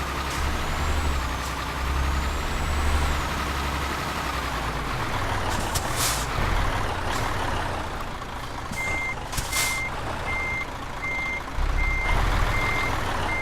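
Repeated evenly spaced reversing beeps from a truck in Euro Truck Simulator 2, over a steady low diesel engine rumble with brief air brake hisses.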